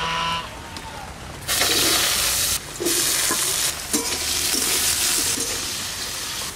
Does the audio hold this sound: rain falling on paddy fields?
no